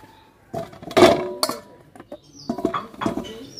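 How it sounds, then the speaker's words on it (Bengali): Carrots washed in a bowl, with close clinks and knocks against the container, splashy patters and short handling bursts separated by brief pauses. "প্রথমে আমি গাজর ভালোভাবে ধুয়ে নেব"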